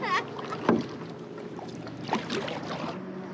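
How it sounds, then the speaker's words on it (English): A Swift canoe is paddled on Lake Denoon, with a few soft, close paddle strokes and water swishes over light wind, gentle and unhurried. "just casually paddling, this ain't bad"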